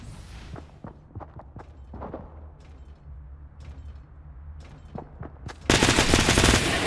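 Gunfire in the video game Fortnite: a rapid series of sharp, close shots in quick bursts, followed by a loud, dense blast of noise.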